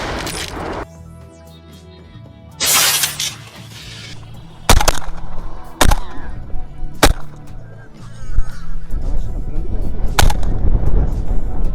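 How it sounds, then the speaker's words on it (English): Sharp gunshots fired during a wild boar hunt, several loud isolated cracks spaced a second or two apart, with outdoor background noise between them. "He wasted no time, unleashing accurate shots that completely halted their escape."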